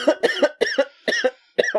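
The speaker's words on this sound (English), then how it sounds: "Way to cough in the mic, dude." A series of sharp coughs right into a microphone, four quick bursts of two or three hacks each, loud and close.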